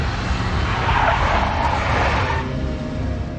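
Tires of a big black Mercedes skid loudly in a video game, a sustained broad screech with engine roar that holds steady for a few seconds and then eases off slightly.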